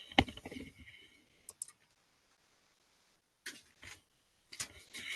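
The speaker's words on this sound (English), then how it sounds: "let's just click OK to see the result" A computer mouse clicking in statistics software: one sharp click near the start, then a few scattered faint clicks and ticks in a quiet room, with no talk.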